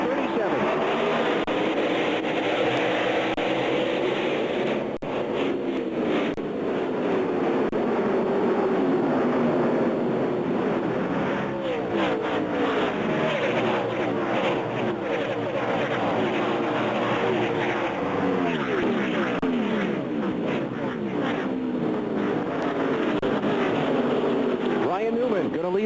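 NASCAR race cars roaring around a 1-mile oval in a 500-kilometer, 312-lap race before a large crowd, a continuous loud engine drone with passing surges, commentators talking throughout.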